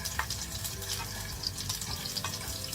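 Sliced garlic frying slowly in oil over medium-low heat for aglio olio, a soft, steady, even sizzle heard close and fairly quiet throughout.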